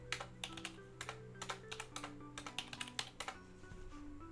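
Fingers typing on a computer keyboard while playing the video game Lingo, irregular bursts of crisp key clicks with short pauses, quiet and close under faint background music.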